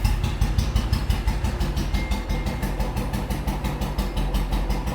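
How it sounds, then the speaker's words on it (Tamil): Steady idle of a fully restored vintage Royal Enfield motorcycle with a G2 engine, a loud, close, even thumping pulse that holds for the whole stretch with no talk over it. "ஸோ இன்ஜினோட தம்ப் கேளுங்க, ரொம்ப சூப்பராக இருக்கும்."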